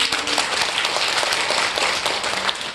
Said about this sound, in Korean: 박수 크게 치셔도 돼요